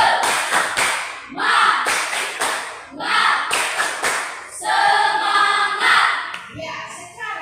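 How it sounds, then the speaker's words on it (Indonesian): A classroom of students performs a rhythmic group clap in patterned bursts, loud and close, with brief pauses between sections and voices chanting along. "mari kita tepuk tangan dulu, tepuk semangat"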